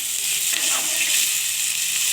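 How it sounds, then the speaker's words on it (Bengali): Onion, green and dry chillies, bay leaf, panch phoron and tomato paste frying in a pan, a bright, steady sizzle heard close up with no talking. "পেঁয়াজ, কাঁচা লঙ্কা, শুকনো লঙ্কা আর তেজপাতা, পাঁচফোড়ন দিয়ে ভালো করে একটু ভেজে নিলে ভাজার গন্ধ উঠবে।"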